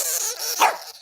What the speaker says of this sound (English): Oh, The dog's pissed off.